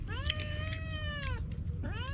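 A cat meows near a fisherman handling blue crabs, giving a clear drawn-out meow followed by a shorter second one. The calls sit over a low background rumble.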